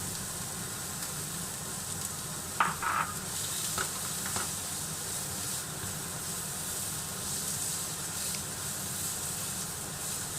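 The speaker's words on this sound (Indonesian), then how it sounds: "Terlebih dahulu tumis bawang bombay sampai harum." Chopped onion sautéing in a pan, a continuous close hiss and sizzle with a few brief clinks of a utensil stirring early on, steady and moderately loud throughout.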